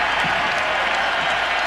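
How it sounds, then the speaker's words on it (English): A basketball arena crowd in Philadelphia gives Michael Jordan a sustained standing ovation after a free throw in his final NBA game, Wizards vs. 76ers, 2003. Dense, loud applause and cheering fill the short stretch without a break. "A 3-minute ovation following a free throw."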